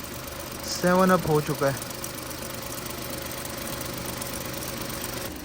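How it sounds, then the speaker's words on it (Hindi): An automatic Suzuki Alto VXR engine idles steadily with a faint whining belt tone underneath, and someone talks briefly in Hindi near the start. "यहाँ से एक बेल्ट की आवाज़ आ रही है हमें।"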